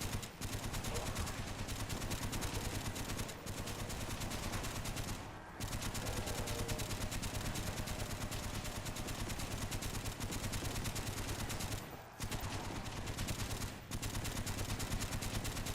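Continuous turret gunfire in Call of Duty Zombies, a dense rapid rattle of shots going on for many seconds with only a few brief pauses, steady and fairly quiet.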